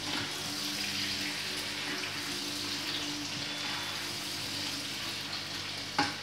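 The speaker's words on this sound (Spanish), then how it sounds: "Y dejamos que se fría bien la sangre con la cebolla." Cooked blood and browned onion fry together in a pan, giving a steady, close sizzle that continues alone with one small clatter near the end.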